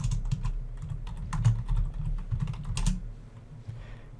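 A search typed on a computer keyboard, a quick run of close, crisp key clicks over a low hum that thins out near the end, with no talk.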